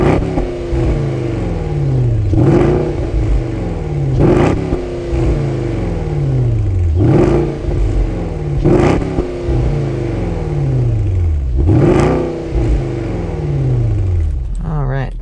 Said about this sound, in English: I want to do a couple revs for you guys so you can hear what that engine sounds like.